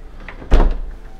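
Solid wooden sliding cabinet doors on a built-in kitchen unit glide shut, ending in a single close, firm thunk with a brief scraping rumble.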